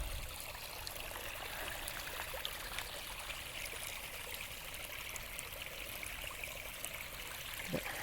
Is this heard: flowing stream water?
yes